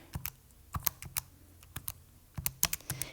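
Calculator keys are pressed in quick irregular bursts, each a sharp faint click, tapping in a number and a tangent function with short pauses between groups.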